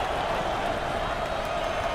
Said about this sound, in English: This Michigan crowd is on their feet.